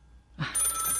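A landline telephone starts ringing after a moment of near silence, a bright trilling bell that comes in suddenly and holds steady, at moderate distance.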